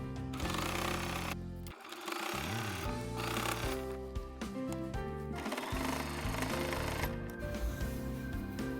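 A sewing machine stitches a quilted cloth basket in fast mechanical bursts, separated by short pauses. The whirring is close, with a few brief stops and restarts and no talking.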